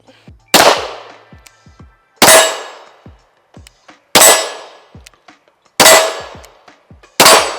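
A semi-automatic rifle with a long barrel and a large muzzle brake, fired outdoors at a shooting range: five loud, sharp shots spaced about one and a half to two seconds apart, each with a ringing echo tail and small metallic clinks in between.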